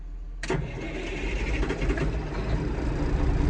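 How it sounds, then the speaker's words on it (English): A semi truck engine starts with a sharp cranking catch, then settles into a loud steady diesel rumble close by. "I'm gonna get the semi fired up so I can start airing up the trailer."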